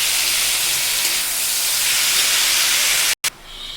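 Pumpkin greens dropped into hot oil set off a loud, dense hissing sizzle that fills the clip, broken by a brief dropout near the end before quieter frying resumes.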